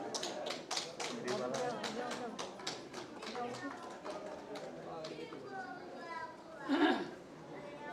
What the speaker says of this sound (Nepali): तालीले स्वागत गरौँ उहाँलाई।